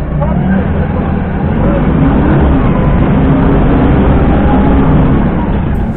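A forklift drives down a road on a hot summer day with a loud, steady engine drone close to the listener throughout.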